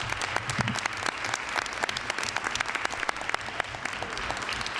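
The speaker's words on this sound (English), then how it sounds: "Let's give them another round of applause." Audience applause fills a meeting hall after a band's performance, a steady dense clatter of many hands clapping at even loudness throughout, with no talking over it.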